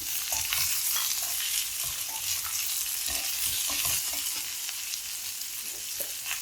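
Chopped small onions and shallots sauté in hot oil in a pan for an onion chutney, with a steady soft sizzle and occasional scraping stirs of a spoon, close up and without talk.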